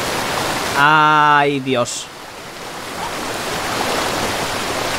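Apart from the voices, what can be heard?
waterfall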